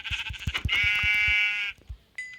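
Minecraft sheep bleating in a survival game, a short burst of bleats followed by a sustained tonal bleat, fairly loud and close, with a brief high blip at the end.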